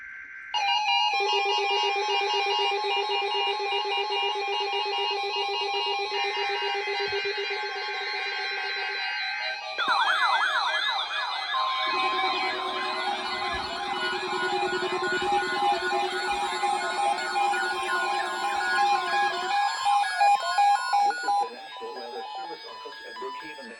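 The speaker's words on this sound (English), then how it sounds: "The preceding signal was a test of the NOAA All Hazards Radio Public Warning System on station code 35 from New York City" A NOAA All Hazards weather radio warning test signal from New York City plays as a sequence of sustained electronic tones, with shifting pitches and warbling alert sounds, continuous and fairly loud with no talk.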